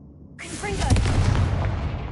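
A Confringo fire spell blast in Hogwarts Legacy on PS5 erupts suddenly from silence, with a short voice at the onset, then holds as a dense, roaring burst with a heavy low rumble.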